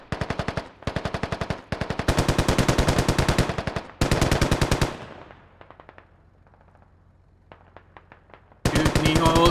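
Loud, rapid machine gun bursts in a video game, several long rattling volleys separated by short gaps, then a quieter stretch of faint distant shots before a final burst resumes.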